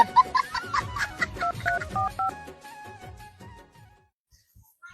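A quick sequence of telephone keypad tones beeps out a number, each note short and distinct, then trails off into quiet.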